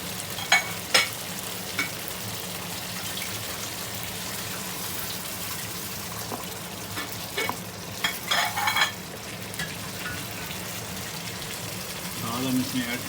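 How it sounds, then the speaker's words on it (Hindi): Soaked chana dal tipped into frying masala in a pan while cooking chicken chana dal, with a few sharp clatters, a short sizzle and stirring scrapes over a steady low kitchen hum. "दाल हम इसमें ऐड करने लगे मसाले में।"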